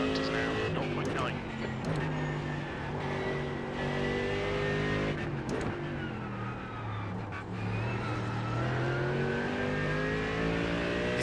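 A GT3 race car engine at Road Atlanta in a racing game, droning and shifting pitch as it revs through gears, with a passing car and someone talking over it.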